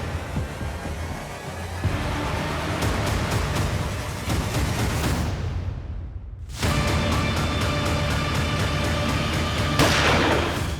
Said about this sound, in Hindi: ये गोली चलने की आवाज थी ना?